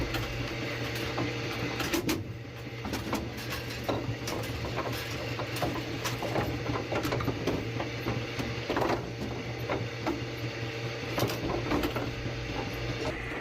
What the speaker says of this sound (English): the pins are being held in the pinwheel, being taken back down to the bottom.